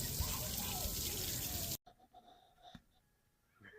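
A tap running water onto a towel in a cabin aboard the Disney Treasure cruise ship, a steady close splashing rush that stops abruptly, followed by a few faint drips and small handling sounds.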